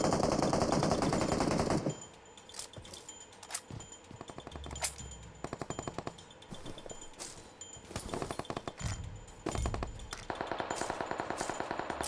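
Gunfire in PUBG Mobile, with a dense stretch of rapid automatic shots and scattered single cracks between them, close and moderately loud, followed by further bursts near the end.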